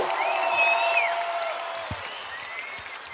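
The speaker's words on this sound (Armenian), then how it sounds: "Խնդրում եմ մի հատ բուռն ծափերով նախագահ Մակրոնին ողջունել։" An audience applauds to welcome President Macron at a formal event in Armenia, a sustained wash of clapping with some high whistling that slowly fades.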